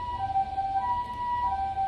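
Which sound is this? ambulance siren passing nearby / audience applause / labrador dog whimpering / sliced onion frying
ambulance siren passing nearby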